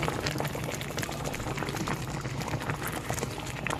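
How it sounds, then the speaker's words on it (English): Cream of mushroom gravy with pork chops simmers in a pan, a steady dense bubbling and popping that continues unbroken at moderate volume, close by. "you can see that cream of mushroom is cooking down, starting to simmer on down there"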